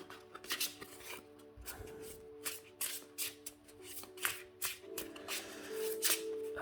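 Soft-touch oracle cards are shuffled by hand, with repeated quick papery riffles and slides in an irregular rhythm, close and quiet, with no talking.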